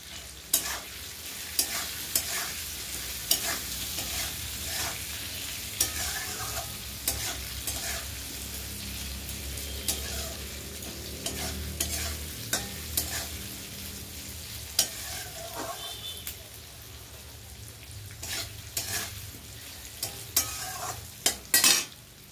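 Vegetables with green chilli and turmeric sizzle and fry in a pan while a utensil stirs and scrapes in steady bursts, with sharp clinks now and then; no one speaks.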